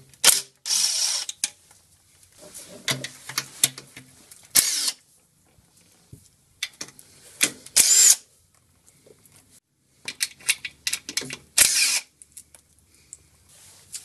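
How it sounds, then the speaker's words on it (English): A ratchet or power tool undoes the 10mm bolts on a Subaru Phase II 4EAT transmission pan, heard as several short bursts of whirring and clicking separated by quiet pauses. "next up is to undo the bolts that hold the pan on"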